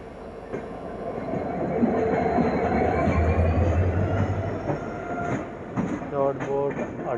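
A passenger train runs near Jodhpur on an Indian railway line, a steady close rumble of wheels on track with rising clatter and faint squeal, while people talk over it toward the end.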